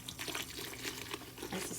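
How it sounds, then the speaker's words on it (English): Water pours into a cold brew coffee container already holding a large amount of ground coffee for a gallon batch, a steady close splashing and trickling wash that runs unbroken for under two seconds. "and I'm going to add the water now."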